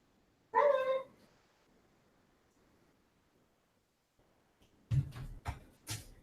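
A shy, sleepy puppy gives a short whimpering yelp, followed by a quiet pause and then a few soft close thumps and rustles.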